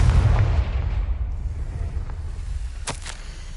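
A Confringo fire spell blast in the video game Hogwarts Legacy: a deep booming explosion at the start that rumbles and fades, followed by a couple of faint crackles and a brief sharp pop near the end.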